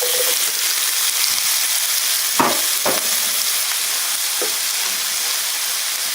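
Four slices of bacon and three small onions fry loudly in oil in a pan, a dense, constant sizzle close by with a couple of brief scraping stirs partway through.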